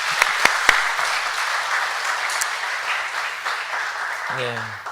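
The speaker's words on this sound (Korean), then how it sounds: "여기 수고하신 선생님들을 위해서 다시 한번 우리 큰 박수 부탁드립니다." A church congregation applauds the teachers at an afternoon worship service, steady dense clapping filling the room with a few sharp claps standing out early, and a brief voice or tone near the end.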